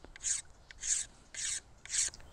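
A bamboo cane atlatl dart having its outer skin scraped off with a blade: four evenly spaced, rasping strokes, each about a third of a second, close and moderately loud.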